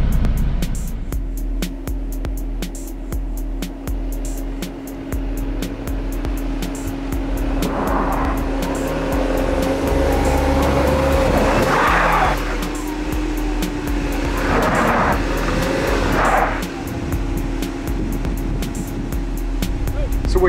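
A 2019 Jeep Cherokee Trailhawk in 4 high auto with fully inflated tires drives under engine strain, with two bursts of tire squeal and scrabbling standing out over a steady background roar.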